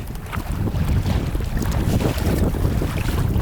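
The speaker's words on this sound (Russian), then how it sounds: "А море волнуется у нас, друзья." Rough sea waves and gusting wind buffet a kayak on an Arctic paddling trip near Kandalaksha, a loud, constant wash of water and wind noise across the whole stretch, with no voices.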